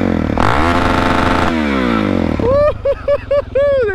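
A DRZ motorcycle fitted with an FMF exhaust revs loud and close, holding a steady throttle, then cracking through a series of sharp blips and rising revs that rise and fall in quick bursts.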